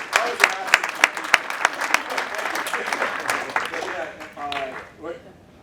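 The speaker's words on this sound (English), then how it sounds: "it helps to have some applause" Applause from an audience at a Chicago District change of command ceremony, dense clapping with a few sharp individual claps up front, holding steady and then tapering off near the end.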